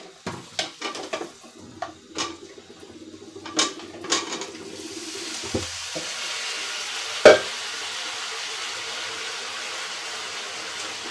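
Potatoes and ridge gourd are dropped into a hot pan, first a run of spatula clinks and stirring knocks, then a sustained loud sizzle that settles into a steady hiss with one sharp clatter.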